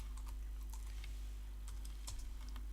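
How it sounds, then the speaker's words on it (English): A computer keyboard clatters as a password is typed in, a close run of quick, uneven keystrokes over a steady low hum, with no talking. "type in your preferred password"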